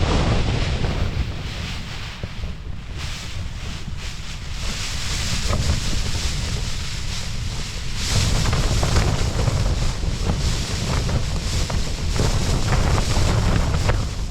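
Strong, gusting wind of Storm Betty buffets a wild camp on Dartmoor, a steady loud roar that swells and rumbles against the microphone throughout, with no voices.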